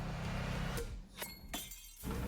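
Glass shatters and breaks in a Final Destination movie scene, several sharp crashes and clinks in quick succession over a dense, loud background.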